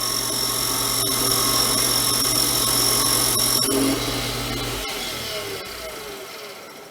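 A Toyo ML210 small metal lathe cutting under power feed, a steady mechanical whine and hum with a high tonal ring that stops near four seconds, leaving a quieter run-down.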